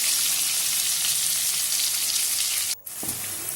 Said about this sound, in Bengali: সেদ্ধ করে রাখা আলুগুলো আমি একটু লাল লাল করে ভেজে নেব।